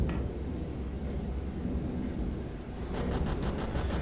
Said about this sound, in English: The wind howled fiercely, and I could also perceive the first drops of rain falling.